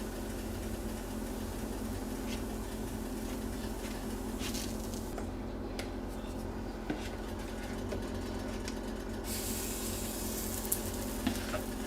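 Æbleskivers sizzle steadily as they fry in the pan, a constant close crackling hiss with occasional faint clicks as the balls are turned.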